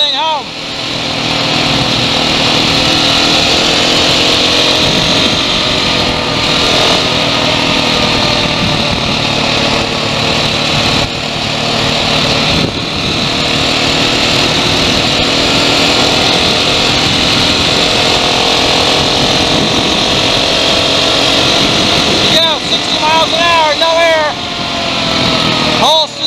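An off-road motorcycle ridden on a flat Tubliss tire keeps up a steady, loud engine drone for the whole stretch, with wind-buffeted rumble and a few faint voices toward the end.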